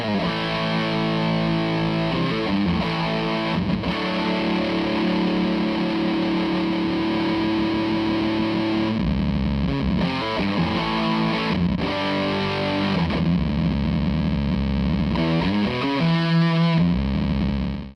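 An electric guitar played through a Zander Circuitry SiClone V3 fuzz pedal, thick distorted notes and sustained chords ringing out with brief breaks between phrases, loud and alone.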